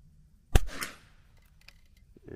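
A single sharp rimfire rifle shot cracks at a target, loud and close, followed by a quick fading echo and a faint distant impact, with no talking.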